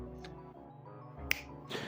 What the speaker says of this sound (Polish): Ale wystarczy, że pstryknę i samo się umebluje, patrzcie to.